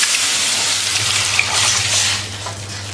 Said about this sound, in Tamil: இப்போ நம்ம கரைச்சி வச்சுருக்கிற புளி கரைசல் விட்டுக்கலாம்.